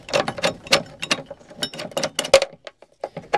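Torx bolt being backed out of a car seat belt mechanism on a classic GM G-body, giving a series of close, irregular metallic clicks and ratcheting taps in quick bursts.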